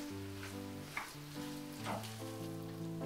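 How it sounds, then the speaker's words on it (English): Grated cheddar being stirred into a breakfast filling in a pan, with a soft, steady sizzle and faint scrapes of stirring close by. No one speaks. "So I add my grated cheddar and give it a little stir"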